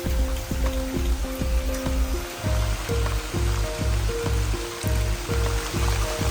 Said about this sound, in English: now I am soaked from the torrential rain